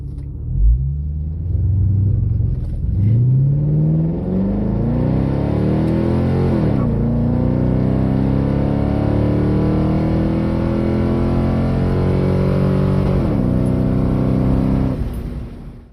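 A stock C5 Corvette launches hard on an eighth-mile drag run, its loud, close engine climbing steadily in pitch through several manual gear changes, each shift dropping the revs briefly before they rise again.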